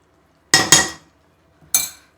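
Three quick metallic scrapes and clinks of a spoon in a pan while stirring a kajjaya mixture with coconut and cardamom, two close together, then a pause before the third, close and distinct with no talk.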